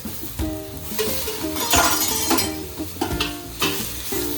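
Tomatoes fry with browned onions in a pan, giving a continuous sizzle with irregular stirring scrapes and faint clinks, partly under background music.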